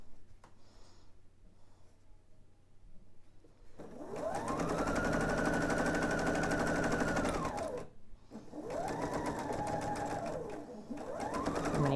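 A sewing machine stitches quilt triangles for a table topper in close, loud bursts: a long steady run, a brief pause, then two shorter runs of rapid needle chatter.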